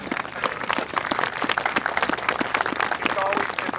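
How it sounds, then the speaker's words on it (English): A crowd at a middle school groundbreaking ceremony claps in a dense, steady round of applause, fairly close and sustained throughout, with a voice speaking over it. "If we get a round of applause for Mike."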